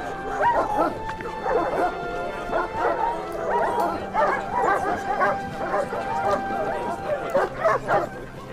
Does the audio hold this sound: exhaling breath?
no